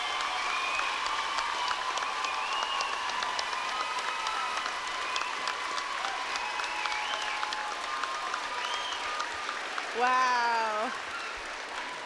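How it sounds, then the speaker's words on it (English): A cheering crowd at a cheer and pom competition claps and whoops steadily in a large gym, with a voice speaking over the applause and a brief louder swell near the end. "So you can see everyone's up and cheering."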